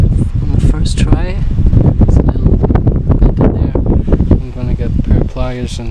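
Cold outdoor wind while a solar water heater is being built for aquaponics: loud, rumbling gusts buffet the microphone throughout as someone talks over it.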